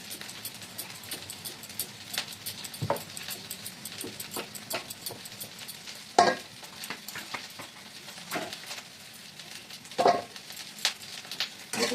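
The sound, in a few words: khuri being fried in a pan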